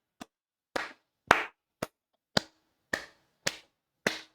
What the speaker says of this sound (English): Chat, we need to clap.